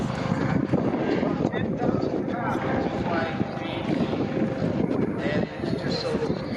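A CareFlight AS365 Dauphin twin-turbine helicopter flies over an airshow, producing a steady, broad turbine and rotor roar throughout while a commentator speaks over a public address system.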